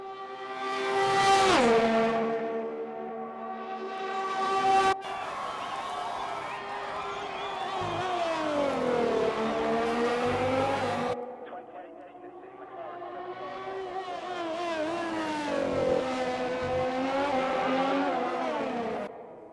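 Race car engine screaming down the main straight in a sim racing game, revving through rising and falling gear pitches with sharp shift breaks, loud and continuous alongside talk.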